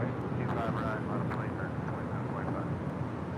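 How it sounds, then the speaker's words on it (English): JetBlue Flight 288, an Airbus A321 jet airliner bound for Boston, rumbles at LAX as a low, continuous engine drone beneath people talking nearby. "This is JetBlue Flight 288. This is heading to Boston A321."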